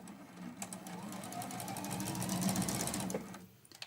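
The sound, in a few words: sewing machine stitching a quarter-inch seam allowance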